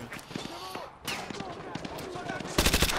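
Rapid bursts of gunfire from a Call of Duty Modern Warfare 2 match, sharp repeated shots with a dense louder volley at the end, mixed with a player's excited talk.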